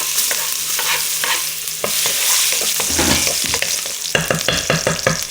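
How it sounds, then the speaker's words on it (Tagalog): Garlic sizzles steadily in hot oil in a wok-style pan, with repeated scraping stir strokes of a spatula that grow busier toward the end, continuous and close with no talking. "Tapos gigisa ko lang itong mga dapat ko igisa. Unahin natin yung bawang."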